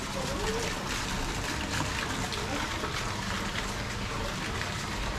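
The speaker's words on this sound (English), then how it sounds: "Water features." A garden water feature in the Chinese gardens in Bendigo trickles and splashes steadily in a continuous wash of sound, fairly close, with no pauses.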